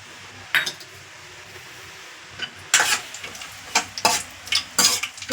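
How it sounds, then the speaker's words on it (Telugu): Cashew pieces fry in a hot pan for semiya payasam, with a faint sizzle beneath sharp metallic clinks and scrapes of a ladle against the pan coming in irregular bursts. "వేడెక్కిన తర్వాత జీడిపప్పు పలుకులు వేస్తున్నానండి"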